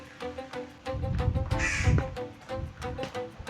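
A crow caws repeatedly and loudly nearby, a run of harsh calls in uneven rhythm over steady rain and outdoor background noise.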